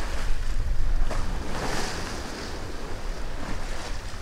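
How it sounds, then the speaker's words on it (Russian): A sailboat runs purely under sail along the east coast of Australia, and a continuous, loud rush of water and waves against the hull mixes with steady wind buffeting the microphone, with no voices. "Мы идем чисто под парусом."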